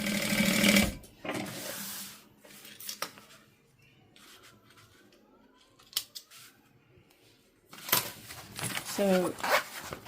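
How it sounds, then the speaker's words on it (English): A sewing machine stitches a small backpack pocket closed in short bursts separated by pauses, with handling noises between runs and a voice talking over parts of it. "I'm going to go ahead and sew my pocket closed."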